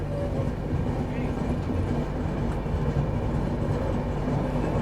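Shatabdi Express 12027 from Chennai Central to Bengaluru running at Bengaluru Cantonment station, a steady dense rumble of rolling wagons with faint wheel clatter, continuous and close throughout.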